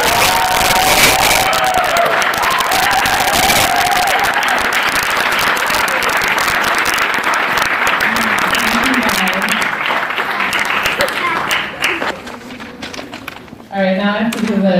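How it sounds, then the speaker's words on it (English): An audience at a film screening applauds loudly with cheering and whoops, a sustained burst of clapping that tapers off near the end as a voice begins talking. "stand up so we can give you a big round of"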